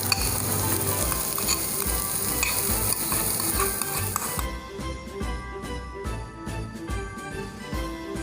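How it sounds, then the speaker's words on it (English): Chopped onions dropped into hot oil with garlic, giving a loud, dense sizzle that eases slightly after a few seconds, with stirring clinks and scrapes throughout. "Now we will add in our chopped onions to it."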